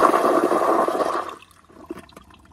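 A Toto CT705 toilet with a piston flushometer flushes while partially clogged, giving a loud, close rushing surge that cuts off abruptly after about a second and a half and leaves faint trickles and drips.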